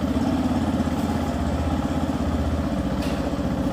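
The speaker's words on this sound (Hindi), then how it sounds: "यामाहा की ये नई बाइक बिना सेल्फ स्टार्ट मोटर और बिना किक के साइलेंटली स्टार्ट हो जाती है।" A Yamaha FZS hybrid motorcycle with a smart motor generator idles steadily nearby, a low, even engine rumble with a regular pulsing throb that continues throughout and cuts off abruptly at the end.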